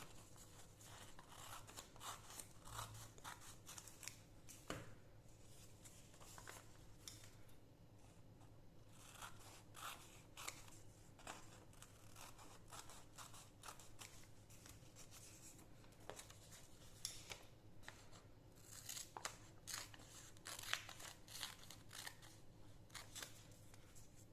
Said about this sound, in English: I am going to use the scissor and I am going to cut it exactly